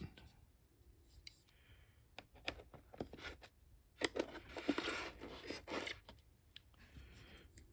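A knife cuts a piece out of a part for an E-flite Viper 90 model jet during a turbine conversion build, giving quiet, close clicks, scrapes and crunching snips in irregular bursts with a soft rustle in between.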